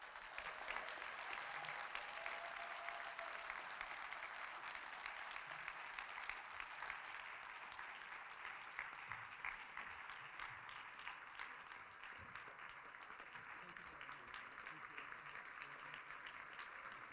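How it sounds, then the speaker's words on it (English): An audience applauds a guest lecturer at a Black History Month kickoff brunch, a sustained, even wash of clapping that carries on without a break, heard from a distance at low level. "Please give a round of applause for our distinguished visitor, lecturer today, Dr. Adolph Reed, Jr."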